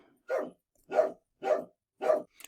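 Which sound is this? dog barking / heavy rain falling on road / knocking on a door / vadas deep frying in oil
dog barking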